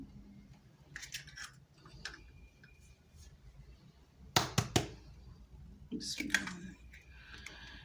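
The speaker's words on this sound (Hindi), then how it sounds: "कबाब फ्राई करने के लिए हम 2 अंडे ले लेंगे। इसको ब्रेक करके बाउल में" Two eggs cracked against a bowl in a home kitchen while making chicken shami kabab: a quick cluster of sharp, close taps and cracks, then a softer shell crunch, with scattered light clicks and quiet kitchen ambience around them.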